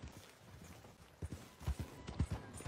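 Faint horse hooves clip-clop in an irregular trotting rhythm in the video game Red Dead Redemption 2 Online, soft and somewhat distant, with no talking over them.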